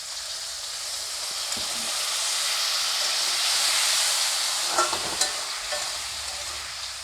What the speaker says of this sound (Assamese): আৰু মই এতিয়া এড কৰিছোঁ অলপ পানী